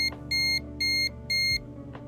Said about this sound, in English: that would be my timer that I set up in real life